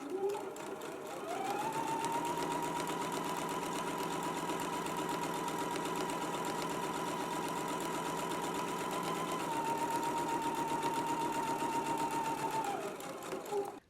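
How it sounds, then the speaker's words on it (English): A sewing machine runs a straight-stitch seam at a quarter-inch allowance on fabric, a steady close mechanical whir with rapid rhythmic ticking that holds for about twelve seconds, then slows and stops. "Now we can go back to the sewing machine."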